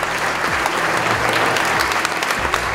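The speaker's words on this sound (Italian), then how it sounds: "Ringraziamo Flavio e Claudio per questa bella festa, tutti i loro collaboratori, con un applauso" Audience applause at a festive anniversary party, dense steady clapping from a crowd filling the room, close and even with no pause.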